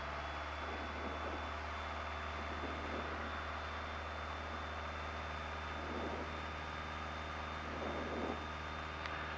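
Piper PA28 light aircraft engine at steady takeoff power, a continuous loud drone with a constant whine heard from inside the cockpit, a few faint rustling bursts over it and no talk.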